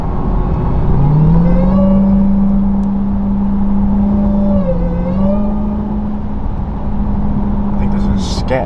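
Supercharged Dodge Durango Hellcat with its muffler deleted, a loud steady supercharger whine riding over the engine drone, dipping briefly mid-way then holding, heard from inside the cabin while cruising.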